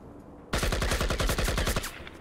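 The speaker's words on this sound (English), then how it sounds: "Find a wall and just shoot at it for you." An AK-47 in the game Project IGI fires a sustained full-auto burst of about a dozen rapid, evenly spaced shots into a wall, loud and close, starting abruptly after a quiet moment and fading with a brief tail.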